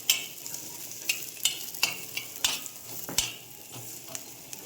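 Onion roasts in a pan with a soft sizzle as a spatula scrapes and stirs in repeated sharp strokes about every half second, close and fairly loud, with no speech.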